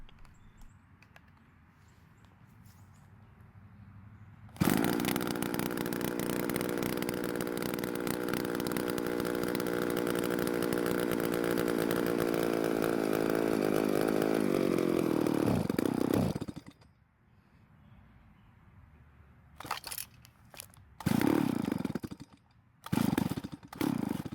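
An old Stihl 024 AV chainsaw starts with a sudden loud roar and runs steadily for about twelve seconds, then cuts off, followed by a few short bursts of revving and sputtering.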